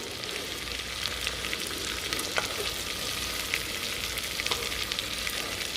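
Chunks of beef muscle sear in a hot pan with a steady, dense sizzle and crackle. Occasional sharper pops and stirring scrapes come through, loud and close, with no one speaking.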